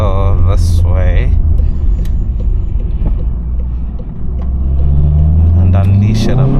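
Engine of a tuned VW Golf 7.5 GTI accelerating on a highway, heard from inside the car: a loud, steady rumbling drone that climbs in pitch as the car builds speed.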